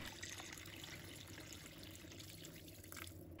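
Clean water pours steadily into a cooking pot holding sliced fresh ginger, a continuous, fairly faint splashing flow with no break.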